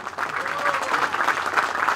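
Steady crowd applause at a public event in Bursa about the Atatürk Indoor Sports Hall, a dense patter of clapping with a faint voice mixed in underneath.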